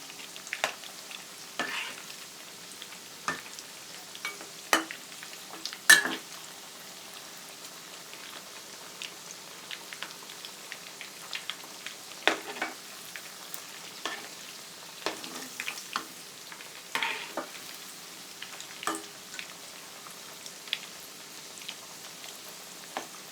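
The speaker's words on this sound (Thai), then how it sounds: "ค่อยๆทอดจนมันสุกเหลืองดีนะคะ" Banana blossom fritters deep-fry in hot oil, giving a soft continuous bubbling hiss dotted with irregular crackles and pops over a long stretch, close and alone without talk.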